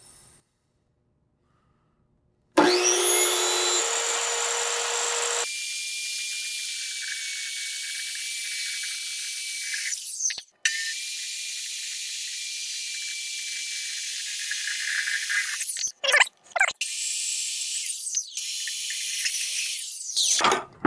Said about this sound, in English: Ryobi laser circular saw. Block your ears.